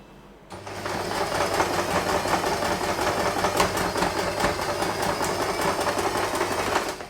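A sewing machine stitching fabric for a two-tone covered headband bow starts up and runs at a fast, steady rhythmic whir with a constant mechanical hum, close and continuous.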